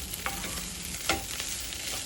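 Cabbage and potato stir fry, cooked without onion or garlic, sizzles steadily in a hot pan, with a few sharp spatula scrapes and stirs standing out against the continuous frying hiss.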